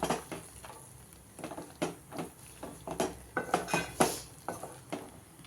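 A spoon scrapes and clinks against a cooking pot as curry with peas is stirred; irregular metallic knocks and scrapes, close and moderately loud, with no talking.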